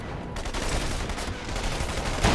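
Dense, rapid gunfire from the video game Saboteur, a continuous rattle of shots with crackling bursts, steady and moderately loud throughout.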